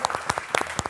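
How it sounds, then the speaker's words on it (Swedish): Sparse clapping from a small group in a room, a handful of separate claps and short bursts rather than sustained applause, with a cheer-like voice in the gaps. "Applådera fan"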